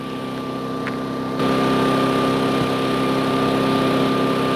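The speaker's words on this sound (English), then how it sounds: "you can hear the noise. Keep in mind we've got 2 generators running over there." Two inverter generators, a Honda EU20i and a Yamaha EF2400iS, running under a fan-heater load, giving a steady close mid-pitched engine hum with a steady whine that steps up louder partway through.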